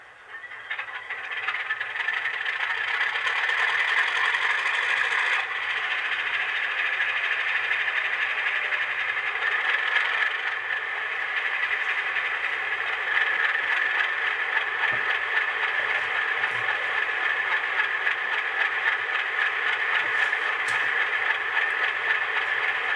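A Rapido HO scale RS18u model locomotive with an ESU LokSound decoder starts up. Its diesel engine sound cranks briefly and then settles into a steady rattling idle that holds on, with no talking.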